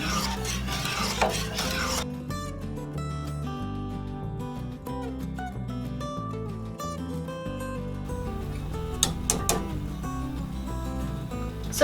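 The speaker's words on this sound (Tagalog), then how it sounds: "Ngayon, pwede na po nating ibuhos yung ating evaporated milk. Haluin lang din po natin." A spoon scrapes and rubs as evaporated milk is stirred into a buko and peanut ice candy mixture, with rhythmic rasping strokes close by over a continuous tonal background.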